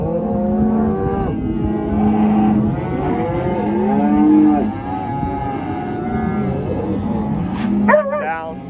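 Weaned calves lowing repeatedly in long drawn moos while a herding dog works them, close and loud, with a voice and a brief bark near the end.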